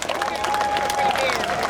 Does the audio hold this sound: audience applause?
yes